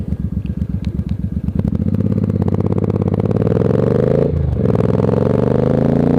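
A Suzuki C50 cruiser motorcycle, an 800 cc model, is ridden slowly, its engine first thumping in loud pulses and then settling into a steady, rising drone with a brief dip in the middle.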